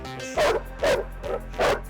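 A dog barks four times in a loose, uneven rhythm, sharp and fairly close, over a steady low background hum.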